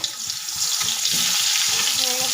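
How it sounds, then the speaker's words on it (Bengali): Potatoes fry in oil with turmeric and salt in a wok, a steady loud sizzle with soft thumps and scrapes from turning the pieces throughout. "আলুটাকে উল্টে পাল্টে লাল লাল করে ভেজে নেব"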